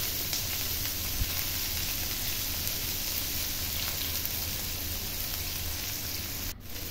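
Chopped onions fry in hot mustard oil in a pan, making a steady, close, dense sizzle that crackles on without pause and ends with a brief stirring scrape.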